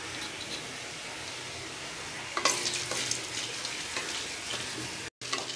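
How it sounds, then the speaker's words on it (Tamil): Chana dal frying in hot sesame oil in a nonstick pan for coconut rice: a steady, close sizzle that flares louder midway as the lentils are stirred, with brief scraping and a short cut near the end. "இப்போ கடலைப்பருப்பு நல்லா பொரிஞ்சிருச்சு"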